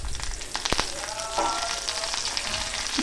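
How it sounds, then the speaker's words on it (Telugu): Curry leaves sizzling in hot oil in a pan of frying bitter gourd and green chillies, a loud, continuous close crackle with a few sharper pops. "కరివేపాకు వేసాను."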